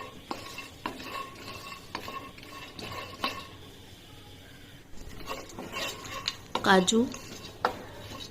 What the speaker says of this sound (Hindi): अब इसको निकाल के हम नट्स जो हैं उनको ड्राई रोस्ट करेंगे।